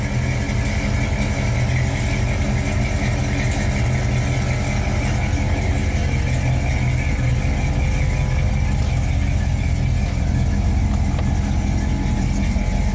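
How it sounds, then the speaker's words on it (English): Air suspension compressor on a 1939 custom Ford running loud and close, a continuous droning whine with a steady mechanical buzz that holds without a break. "So there's the compressor."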